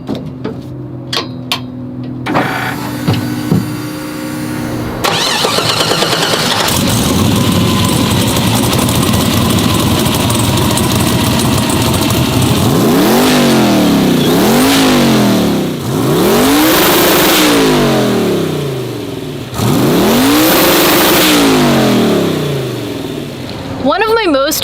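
A car engine cranks and catches, then idles loudly and revs up repeatedly in rising and falling surges, close by.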